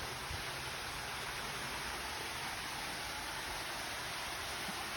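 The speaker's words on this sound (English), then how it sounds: "You're going to go through this beautiful gate, and there's a magnificent waterfall." A waterfall at a house entrance with geometric architecture, a soft, steady, even rush of falling water heard at a distance with no other sounds.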